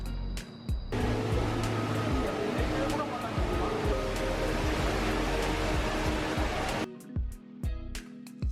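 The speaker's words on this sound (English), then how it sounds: "The highlight of Singapore Changi Airport is definitely the Javel. It's like an inside waterfall," The indoor waterfall at Jewel, Singapore Changi Airport, pours as a broad, steady roar of falling water, loud and continuous, with faint crowd murmur in the large space and quieter room sound before and after.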